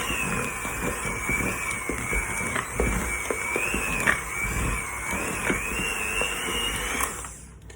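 An electric hand mixer beating chocolate chip cookie dough at a higher speed, a steady motor whine with rhythmic clunks and scraping of the beaters against the bowl, close and continuous until it stops near the end.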